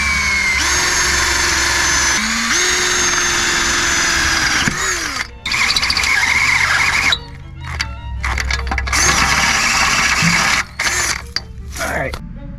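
Power drill boring holes into the exhaust pipe ahead of the muffler on a turbo diesel Volvo 740 D24T; loud whirring and grinding bursts that start and stop several times, close by.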